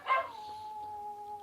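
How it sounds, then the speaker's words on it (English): A dog gives a single sustained howl that starts with a brief yelping burst and settles into a steady, thin tone, moderately distant and unaccompanied by talk. "What is with the dogs?"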